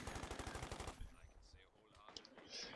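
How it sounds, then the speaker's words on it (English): A Thompson submachine gun fires in the WWII strategy game Company of Heroes 2, a rapid, dense burst of automatic fire that stops abruptly, followed by scattered distant battle sounds and faint game effects. "The Thompson model is still firing."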